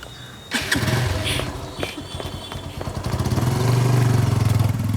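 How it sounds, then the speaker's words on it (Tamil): A motor vehicle engine starts after a few clattering knocks, then settles into a steady, rising idle rumble at close range, with no talk. "வண்டி எடுங்க மச்சான்"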